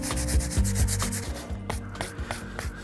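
A muddy bike tire is scrubbed with cleaner in quick rhythmic rubbing strokes, close and fairly loud, with brief pauses between bursts of brushing.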